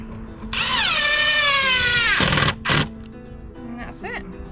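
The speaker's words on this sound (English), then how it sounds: "Grab my drill." A power drill drives screws into pallet wood while a trug is built, a loud sustained whirring run with rising pitch that stops abruptly, followed by a shorter burst and some handling noise.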